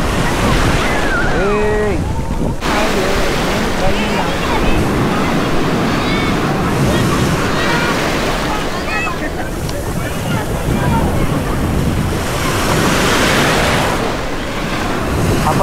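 Ocean surf at Miramar Beach in Panjim, Goa, at sunset washes in continuously with loud, rushing breakers and wind buffeting the microphone, while people talk nearby over the water.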